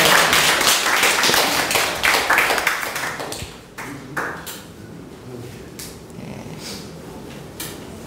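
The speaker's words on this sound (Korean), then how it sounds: "박수로 좀 맞이해 주시기 바랍니다" Small audience in a lecture room clapping to welcome a speaker for a talk on gout, a short burst of dense applause that quickly thins to scattered claps and taps.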